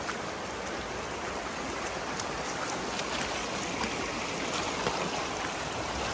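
River rapids rushing over slick, shiny rocks along a trail, a steady broadband wash of flowing water that stays loud and even throughout with no voices.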